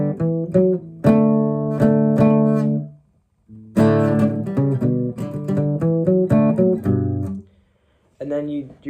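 Close guitar plays a song's riff, letting an open D ring along: bright rhythmic plucked and strummed chords in bursts, with a full pause midway and a short restart near the end.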